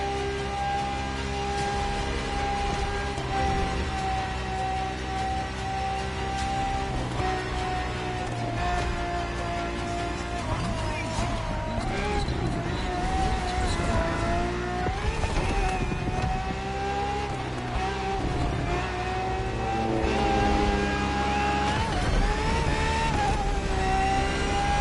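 Ferrari FXX K track car in the racing game The Crew Motorfest, a sustained high-pitched engine whine holding steady over a dense music-like bed, loud and continuous throughout with no talking.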